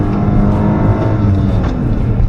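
A 2015 Kia Sorento engine held at a steady, loud rev, a continuous dense drone with no rise, as if capped near a fixed limit, with no talk over it.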